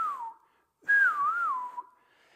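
A person whistles an imitation of golden oriole song: a short falling note, a pause, then a longer warbling, wavering whistle, clear and close.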